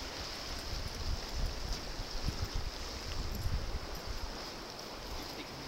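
The South Fork river in South Fork, Colorado flows past a vacation home's hot tub, a faint, steady rushing wash with light wind noise and no voices.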